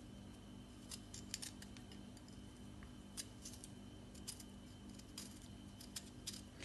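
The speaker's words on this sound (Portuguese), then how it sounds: "vamos começar a descascar aqui os nossos kiwis" Kiwi fruit being peeled with a knife in a home kitchen while making kiwi mousse, giving a run of faint, crisp scraping and snipping ticks at irregular intervals over a steady low hum, with no talking.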